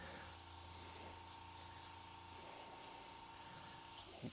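An airbrush sprays paint onto fabric, a soft continuous hiss heard close but quiet against a faint steady hum, with a small bump of handling near the end.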